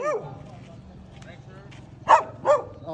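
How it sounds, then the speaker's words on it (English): Street dogs bark at a passing stranger, two sharp close barks near the end after a voice, with a steady background murmur throughout. "they're gonna bark and bark at me"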